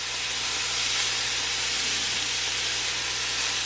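Cilantro hits a pan of sizzling garlic as part of a low-carb chicken and rice dish. A steady, even hiss of frying carries on throughout, with no talking.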